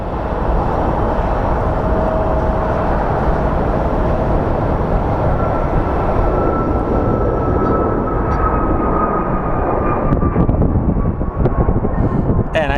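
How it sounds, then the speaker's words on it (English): An Airbus A321 airliner departs Phoenix Sky Harbor for Dallas, a loud sustained jet roar with a faint rising whine, under intermittent talking nearby. "here we have our A321 headed to Dallas"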